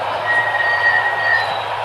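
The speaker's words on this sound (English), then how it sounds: "Well, I hear some brakes." A high, thin squeal of a small cleaning train's brakes rings out over the steady rumble of rolling railcars, holding for a long stretch.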